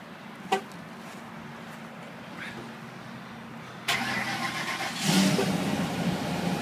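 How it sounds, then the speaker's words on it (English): A cold 2006 Ford F-150 engine is started by remote start: after quiet clicks, the engine cranks and catches abruptly, then settles into a steady idle that rises briefly as it revs, heard from nearby. "I want to show you the remote start."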